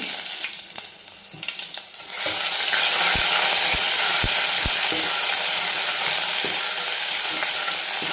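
Crushed ginger and garlic hit a hot pan with cumin already in it, bursting into a loud, steady sizzle after a few quieter clinks, with occasional spoon taps against the pan and no talking.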